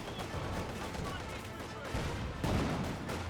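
Gunfire aimed at grenadiers in the video game Company of Heroes 2, a steady wash of distant battle noise with muffled shots and a couple of heavier bursts near the end, under a voice.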